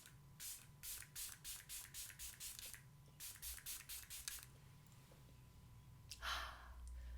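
Face mist spray bottle pumped in a rapid series of about fourteen crisp, close spritzes in two bursts, followed by a soft breathy exhale near the end.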